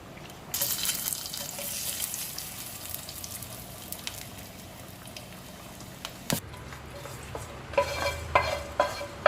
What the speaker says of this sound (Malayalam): തിളച്ച വെള്ളവും കൂടി ചേർത്ത് ഇളക്കുക.